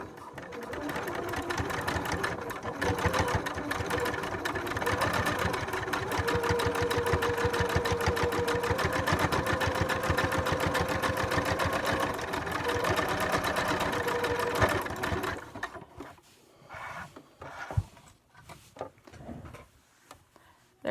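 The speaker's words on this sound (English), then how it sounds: "Program my machine, and I'm going to do my curved stitch." A sewing machine runs a curved zigzag stitch on fabric for a faux knot headband, a steady rapid mechanical chatter for about fifteen seconds before stopping, followed by a few faint handling clicks.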